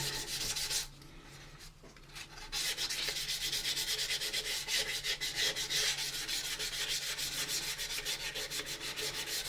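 A plastic model kit of the U.S.S. Enterprise is wet-sanded with 400 grit sandpaper and dish soap, giving close, steady back-and-forth rubbing strokes in a quick rhythm, with a brief pause near the start.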